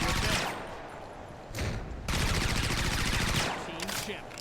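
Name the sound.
gunfire in video game Blitz Brigade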